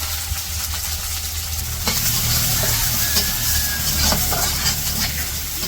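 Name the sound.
onion and green chili frying in oil in a wok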